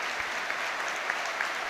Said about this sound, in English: A round of applause for the young 13-year-old Hearts fan, Devin Gordon.